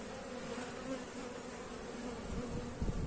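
Honeybees swarm over beehive frames of brood in a crowded colony, producing a close, steady, dense buzzing hum that continues without break through the short moment, with no voices.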